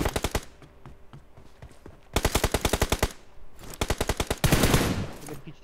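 Bursts of automatic gunfire from PUBG Mobile in a 2v2 team kill race, several rapid volleys of loud, close shots separated by short pauses, with a denser, heavier burst near the end.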